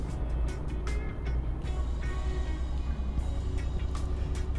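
A car's engine in Euro Truck Simulator 2 gives a steady, loud low-pitched drone with road rumble and a few faint clicks and ticks above it.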